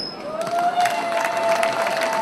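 Applause and crowd noise at a cultural day gathering in Libreville, Gabon, welcoming a Fongo-Ndeng royal visit; a steady, fairly close burst of clapping and murmuring voices with a sustained tone running underneath.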